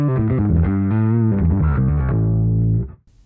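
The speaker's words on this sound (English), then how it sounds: "patch number 2, which is the subharmonic fuzz" Bass guitar through a Line 6 HX One running a subharmonic fuzz patch, a thick, distorted low tone sustaining a few shifting notes at loud, steady level before cutting off abruptly near the end.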